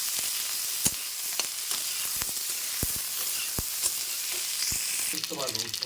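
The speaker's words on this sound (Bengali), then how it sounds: "ওই তেলে এবার বড়িগুলো ভেজে নেব। বড়িগুলো ভেজে নিচ্ছি" Lentil dumplings fry in hot oil with a steady, close sizzle and scattered sharp crackles; a voice starts speaking near the end.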